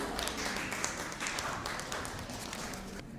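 A conference audience applauds a speaker in a dense, continuous wash of clapping, fairly faint and distant, holding steady for a few seconds.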